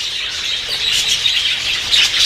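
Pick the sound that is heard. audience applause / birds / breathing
birds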